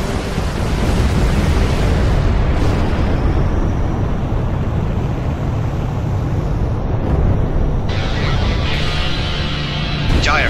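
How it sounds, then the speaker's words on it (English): A rocket strike explodes in an animated air-to-ground battle, heard as a sustained, loud, rumbling roar with wind-like turbulence that stays dense throughout and shifts slightly near the end. "Firebird 1, rockets away. Target destroyed."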